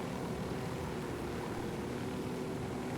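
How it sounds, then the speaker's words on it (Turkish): Helicopter engine and rotor noise from Ghost Recon Wildlands, a steady broadband drone with a low tonal hum, continuous and fairly quiet with no talk. "Var ya helikopter çok iyi ya."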